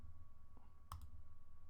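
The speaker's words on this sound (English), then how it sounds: "I'm clicking the wrong thing." Two quick computer mouse clicks in a row, crisp and close against a quiet background hum.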